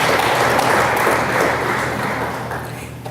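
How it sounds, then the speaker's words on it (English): A room full of people at a school board honors and recognitions session applauds a student team, a dense steady wash of clapping that swells near the start and gradually thins out. "Will you give that team a round of applause as well?"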